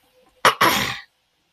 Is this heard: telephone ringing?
no